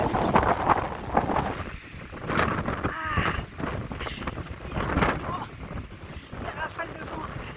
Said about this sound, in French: il y a une rafale de vent.